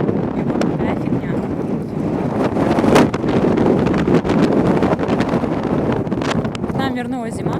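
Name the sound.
strong wind blowing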